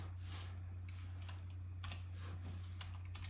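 Typing on a Logitech computer keyboard connected to an M1 Mac mini, including arrow and delete keys, with close, irregular clicks and short bursts of keystrokes over a steady low electrical hum.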